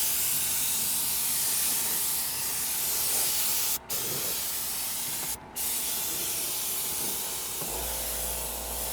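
Spray gun with an adjustable fan and flow spraying a car interior during detailing: a loud, continuous close hiss, broken by two very brief pauses, then a low thump near the end, no voices.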